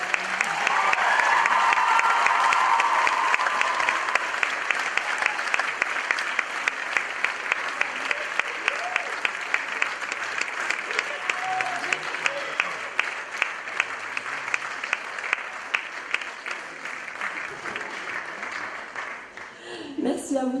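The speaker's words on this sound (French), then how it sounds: "Un tonnerre d'applaudissements s'il vous plaît." Loud, sustained applause from a gala-night audience fills the hall, with a dense crowd of hands clapping steadily before thinning slightly toward the end.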